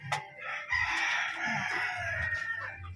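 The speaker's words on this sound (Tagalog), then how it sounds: "Yan na among manok guys." A rooster crows once, near and loud, a long strained cock-a-doodle-doo after a short opening note, with faint low background noise and a soft cluck at the start.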